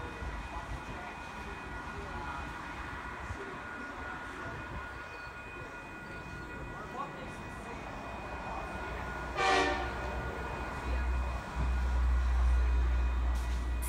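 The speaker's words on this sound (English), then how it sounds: "CM 3310 is the leading loco." CM class diesel locomotives pass at Koolewong with a low rumbling roar, and a single horn blast sounds midway before the engine noise swells louder toward the end.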